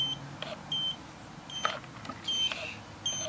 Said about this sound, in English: if it's beeping like this